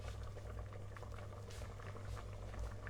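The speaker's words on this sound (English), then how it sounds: "I'll let that simmer for a couple of minutes, then we'll get it in a dish." Beef casserole simmering in a pot, a soft continuous bubbling and popping close by, quiet and steady throughout.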